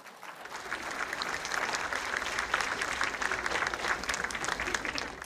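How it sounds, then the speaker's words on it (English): An indoor audience at an Indigenous speaker event gives steady, even applause, a continuous dense clatter of many hands holding at the same level throughout. "So let's give them another round of applause"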